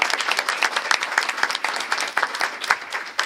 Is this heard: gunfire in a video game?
no